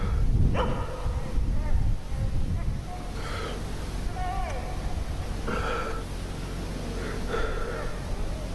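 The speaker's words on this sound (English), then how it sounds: "We see the cameraman stood outside listening to his dog bark." A dog barks in short bursts several times at night outdoors, spaced irregularly over a constant hissing, degraded background noise.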